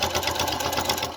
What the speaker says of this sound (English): I am gonna just top stitch right close to the edge.